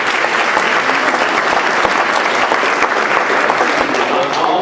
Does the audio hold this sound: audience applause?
yes